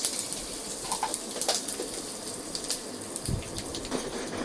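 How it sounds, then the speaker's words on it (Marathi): Curry leaves crackle and spit in hot oil while tempering a spiced cucumber dish: a dense, steady crackle with sharp pops throughout, close and fairly loud, with no talking. "तडतडणारा कढीपत्ता."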